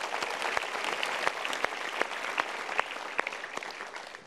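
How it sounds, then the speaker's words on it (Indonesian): Sustained audience applause during a motivational talk show, dense steady clapping with sharp individual claps popping out, filling the room for several seconds with no voices. "kita berikan tepuk tangan lagi untuk Pak Sony."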